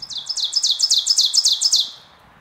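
A warbler sings its teacher-teacher song, a rapid series of about ten bright, repeated two-part chirps delivered clearly and close, then fading out.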